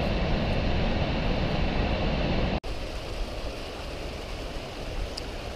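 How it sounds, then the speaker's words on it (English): A small stream flows along the Panorama Trail to Illillouette Falls in Yosemite National Park, a steady broadband rush of running water heard close and fairly loud throughout, with a brief dip midway and no voices. "Here's a pretty little stream."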